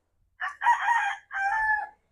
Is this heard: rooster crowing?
yes